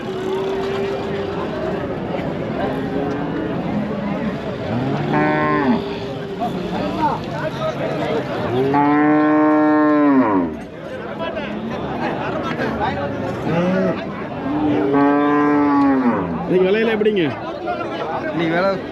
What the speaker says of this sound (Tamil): மாடுகள் நிறைய வந்திருக்குது